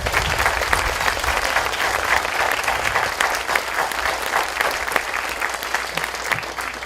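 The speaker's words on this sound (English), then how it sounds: "Let's give them a round of applause" Sustained crowd applause at a city's State of the City address honoring public safety personnel, loud, dense and continuous clapping from a large audience with no pause.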